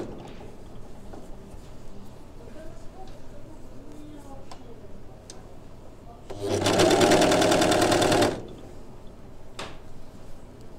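A Bernette b44 four-thread overlock sewing machine stitches a binding onto the neckline of a t-shirt front, running in one loud, steady burst of about two seconds amid quiet room noise.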